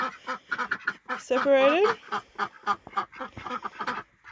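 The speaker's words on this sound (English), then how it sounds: "So to begin with, we have the Harlequin, Welsh Harlequin ducks" Welsh Harlequin ducks in a breeding pen give a loud, drawn-out quacking call nearby, heard over and between ongoing talk.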